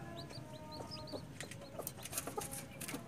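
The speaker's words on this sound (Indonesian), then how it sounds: "Ini ayam-ayamku yang sudah menetas dan melihat dunia." Newly hatched chicks cluck softly and repeatedly over a steady low background hum, with a few sharper chirps near the end.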